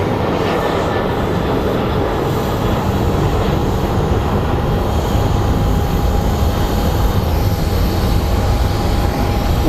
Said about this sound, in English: Let's see how good I can track this plane.